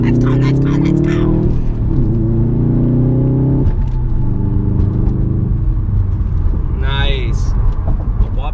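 Subaru STI car driving at low speed, its engine note rumbling loud and close and rising through gear changes, with voices talking over it throughout.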